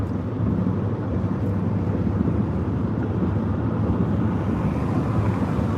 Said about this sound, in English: I'm just idling along here at 65 miles an hour